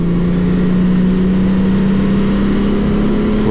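A Honda Transalp 750 motorcycle accelerates down a circuit straight, its engine drone loud and continuous, the pitch climbing gradually throughout.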